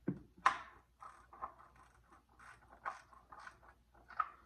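Ratchet wrench tightening the oil drain plug on a 1999-2005 VW MK4 2.0L, giving a series of quiet, irregular metallic clicks and ratcheting strokes close by, with one sharper snap near the start.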